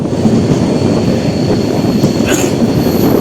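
The Kanyakumari Express rolls through a curve on its rails, a loud, steady rumble and roar of wheels with a faint high squeal rising briefly, heard up close from aboard the train.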